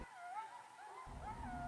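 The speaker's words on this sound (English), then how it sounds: "The howling of the wolves. What sweet music they make." Wolves howl in long, wavering, mournful tones, with two or more voices overlapping and sliding in pitch. The sound is faint and distant, set against a low background rumble.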